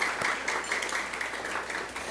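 Applause from an audience at a graduation dinner, steady crowd clapping filling the whole brief moment at moderate volume, with no voices standing out.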